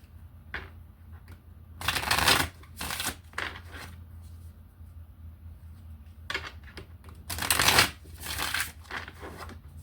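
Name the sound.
shuffling a deck of tarot cards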